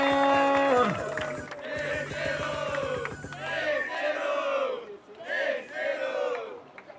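Crowd at a freestyle rap battle event roaring and shouting, loud group yells surging in waves with some clapping beneath, a chanted cry early on giving way to repeated bursts of cheering.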